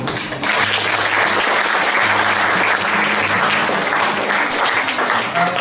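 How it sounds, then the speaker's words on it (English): An audience at a professional development session on hotel industry and tourism management breaks into a loud, sustained round of applause, dense clapping continuing steadily for several seconds with a low hum beneath. "let's give a big round of applause"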